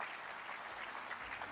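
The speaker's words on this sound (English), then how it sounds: "please, a round of applause for our wonderful panelists" An audience at a transport conference's opening plenary session applauds its panelists: an even, sustained patter of many hands clapping, soft and somewhat distant, with no talking.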